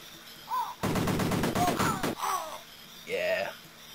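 Rapid bursts of gunfire from the Amiga game Cannon Fodder, a dense rattling volley followed by a few shorter shots, with game voice cries and a speaking voice around them.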